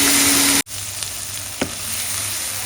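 Masala paste of ground bitter gourd peels and seeds sizzles steadily in a hot pan, with a brief scrape of stirring partway through and no talk.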